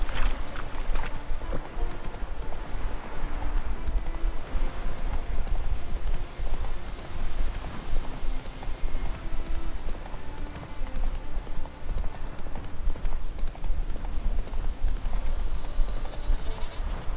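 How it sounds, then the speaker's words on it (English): Roach the horse galloping in The Witcher 3, a dense continuous drumming of hooves under loud broadband game noise, steady and unbroken throughout with no clear pauses. "Gyere, ló!"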